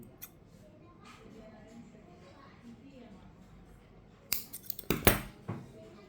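Scissors snip off the excess end of fishing line after a knot is tied on a rig for LRF fishing, a short cluster of crisp close clicks and cuts following a quiet stretch.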